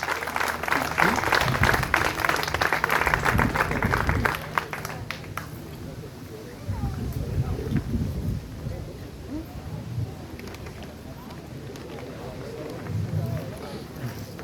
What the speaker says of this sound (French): Applaudissez-le bien,